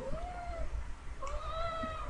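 A cat in the Minecraft Technic modpack game gives two clear meows, a drawn-out one near the start and another about a second later, heard alone over low background hum.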